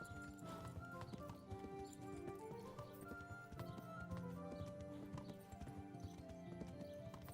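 Horse hooves clip-clopping in the medieval video game Kingdom Come: Deliverance, a steady rhythmic trot with an occasional whinny, layered over game music and ambience.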